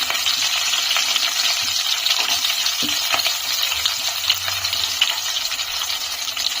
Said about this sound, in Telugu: ఇప్పుడు అదే మూకుట్లో కొద్దిగా ఆయిల్ వేసుకొని పచ్చిమిర్చి తరిగిన ఉల్లిపాయ ముక్కలు